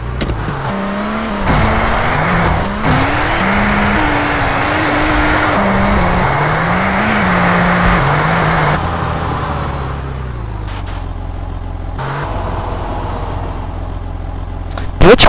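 A car engine in GTA San Andreas multiplayer, looping game-engine drone that rises and dips through gear shifts, then a lower steady idle near the end, loud throughout with occasional talk over it.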